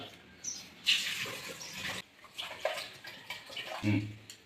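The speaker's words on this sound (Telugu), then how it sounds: "ఎనిమిది టమాటాలు అయితే ఫస్ట్ కడగాలి" Eight tomatoes are washed in water, with splashing and trickling that rises and falls in short bursts, close up, and a bit of faint background voice.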